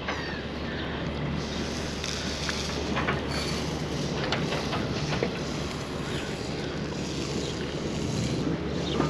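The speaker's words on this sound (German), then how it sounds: "Wir werden hier anlegen, Jürgen dreht das Boot" Steady low engine drone of a motorboat turning to moor in the Netherlands, with wind and water noise, continuous and fairly loud, no voices.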